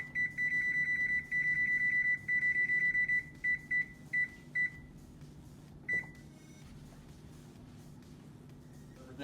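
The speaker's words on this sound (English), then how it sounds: "We're going to set our timer." An electronic kitchen timer, set for 30 minutes of baking a fisherman's pie, gives repeated rapid bursts of high, clear beeps, then a few single beeps before falling quiet, with faint room noise beneath.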